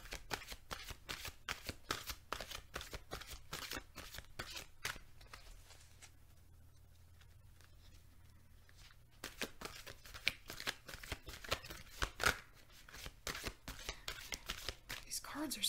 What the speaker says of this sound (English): These cards are so sticky.